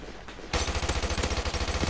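Rapid automatic gunfire from a video game starts abruptly after a short quiet lead-in, then runs as a loud, steady stream of evenly spaced shots until the end.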